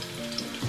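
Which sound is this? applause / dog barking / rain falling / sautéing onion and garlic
sautéing onion and garlic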